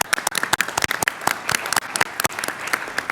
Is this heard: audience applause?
yes